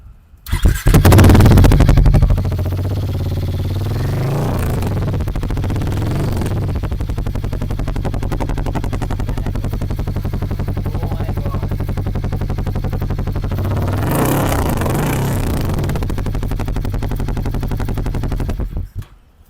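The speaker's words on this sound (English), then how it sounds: "We can get this mic near the exhaust so that you can hear the exhaust note." A 2024 Harley-Davidson X 440 motorcycle engine fires up loudly and settles into a deep, thumping idle, recorded close to the exhaust, then briefly revs up before settling again.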